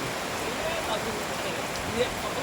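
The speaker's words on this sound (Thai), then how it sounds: "ซึ่งในขณะนี้ มีฝนตกปล่อยๆแล้วนะครับ" Rain falls steadily across an outdoor school field at Ban Nong Khai School in Buriram, Thailand, making a continuous soft hiss with faint scattered patters and no clear voices.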